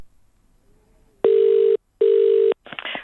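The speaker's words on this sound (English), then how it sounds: "today we tried several times to reach Mr Honeybone by phone for an interview" A telephone call goes out: a short dial tone, then two long, loud, steady ring tones separated by a brief gap, followed by the start of a pickup on the line.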